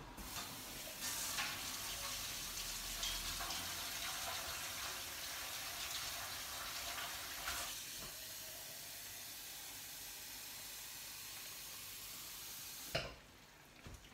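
Tap water running into a measuring jug in a kitchen, a steady hissing stream lasting several seconds before cutting off abruptly near the end, with a brief clunk.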